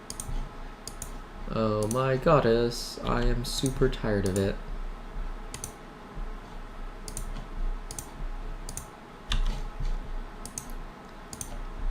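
Mouse clicks while playing AdventureQuest Worlds, a rapid run of sharp, light ticks scattered across the whole stretch, close and fairly quiet, with someone talking over some of them.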